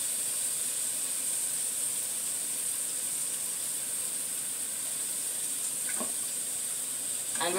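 Soy sauce sizzles in a pan with chicken breast and vegetables, a steady close hiss running throughout with a few sharper crackles near the end and no talk.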